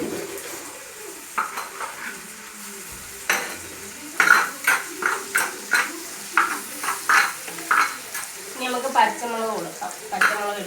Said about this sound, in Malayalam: നന്നായിട്ട് വഴറ്റിയെടുക്കുന്നു.